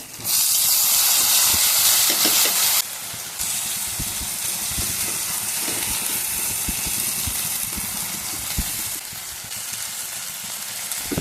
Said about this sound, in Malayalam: വെളുത്തുള്ളി ഇട്ടു പിന്നെ സവാള ഇട തക്കാളി ഇടാം